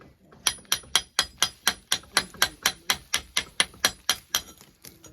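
Plaster being knocked off the stone wall of an old cottage, about seventeen sharp, evenly spaced blows struck close by at a quick steady rhythm, with no talking.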